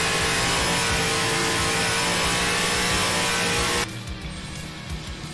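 Loud in-car race car engine from a NASCAR racing video game at Daytona, a dense, steady roar at full throttle that cuts abruptly to a much quieter engine drone near the end.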